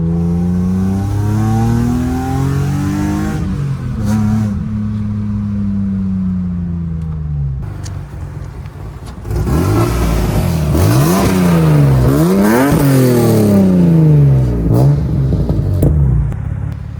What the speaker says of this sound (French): Ouais, ça pète de temps en temps.